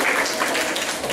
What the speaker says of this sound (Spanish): Un aplauso aquí para los colegas